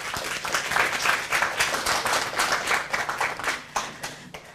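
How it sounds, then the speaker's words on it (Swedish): Studio audience at a televised Christmas bingo lottery show claps for the notary, a lively close burst of hand claps with audible individual slaps, fading slightly toward the end. "En stor applåd för Bosse."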